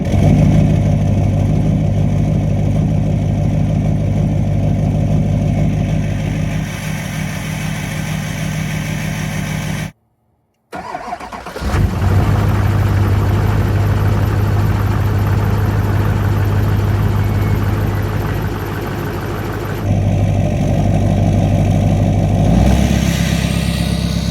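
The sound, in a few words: cold start of LBZ diesel truck engine with HSP intake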